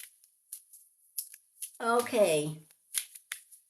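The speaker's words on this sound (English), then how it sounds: "So let us shuffle these cards." Tarot cards are shuffled in quick riffling bursts, a series of short papery flutters close by, with a brief spoken word in the middle.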